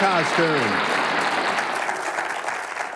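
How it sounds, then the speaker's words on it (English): Studio audience applause on a live morning TV show after a Halloween pet costume countdown, steady clapping throughout with a voice speaking briefly at the start. "How about a big round of applause for the top 10 Halloween pet"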